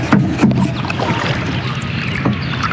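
A boat being rowed on the Karnaphuli River gives off close splashes and paddle strokes over a steady wash of water and wind.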